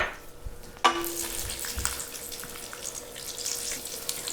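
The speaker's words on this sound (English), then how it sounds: "first we're gonna cook the almonds in the oil" Almonds cooking in oil in a pan for sautéed green beans give a steady, moderate crackling sizzle with a brief clack near the start, carrying on alone without talk.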